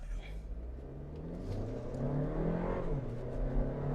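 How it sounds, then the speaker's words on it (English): A 2022 Audi Q3 in dynamic mode accelerates from a stop, its engine note climbing and shifting in pitch, moderately loud from inside the cabin. "the engine is making more effort than the car is actually going"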